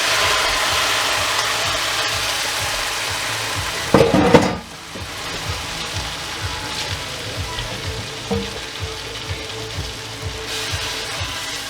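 Shrimp sizzling in butter in a pan for chipotle shrimp enchiladas, a steady crackling fry throughout, with a louder clattering burst of pan contact around the middle, then continuing sizzle with light clinks.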